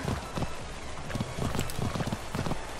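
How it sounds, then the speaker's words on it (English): A creature in the video game ARK makes horse-like clip-clop hoofbeats, with rapid irregular thuds repeating close and fairly loud across a short stretch with no talk. "Oh, he sounds like a horse."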